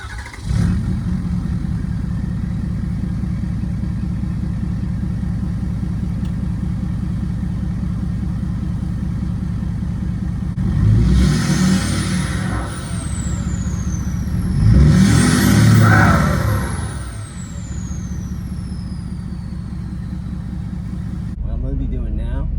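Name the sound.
truck driving along a canal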